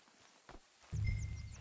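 Horse hooves clip-clopping in the video game Red Dead Redemption 2, a few soft steps, then a louder, steady low thudding of hooves close by for the rest of the moment.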